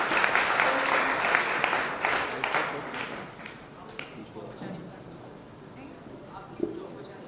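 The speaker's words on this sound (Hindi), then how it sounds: "एक बार आप सबकी जोरदार तालियां मिल जाए इतनी सुंदर प्रस्तुति के लिए" Enthusiastic audience applause after a staged performance of the Sanskrit play Prasannaraghavam, loud at first and then tapering away over several seconds, with a voice speaking over it.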